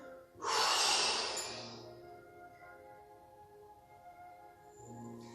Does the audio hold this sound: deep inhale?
yes